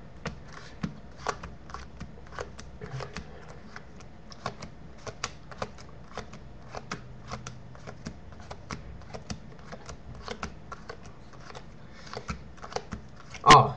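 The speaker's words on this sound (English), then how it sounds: "now I'm just gonna randomly count out cards like this." Playing cards counted out one by one onto a pile, a long run of crisp, close, evenly spaced snaps and flicks, closing with a louder rustle.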